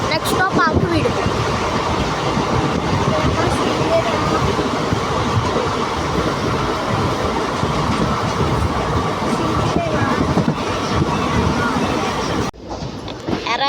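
Circar Express passenger train running on rails, a loud continuous rumble with rhythmic wheel clatter from on board, cut short near the end.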